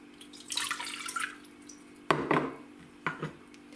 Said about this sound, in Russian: Я сейчас в кастрюлю отправлю воду.